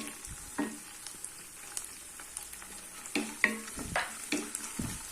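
Onion and fresh green peas sautéing in a pan for cabbage rice, a low crackling sizzle broken by intermittent spoon scrapes and knocks, near and quiet, no one speaking.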